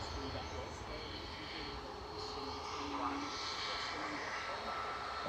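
A Virgin Airbus A330-300 arriving at Manchester Airport from Orlando makes a faint, distant jet engine drone that swells slightly, steady and continuous with no talk.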